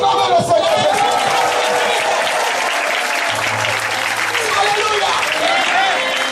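A church congregation at a French-language worship service breaks into sustained applause and acclamation for Jesus, a loud, steady wash of clapping and cheering voices that continues throughout, with a low musical tone entering partway.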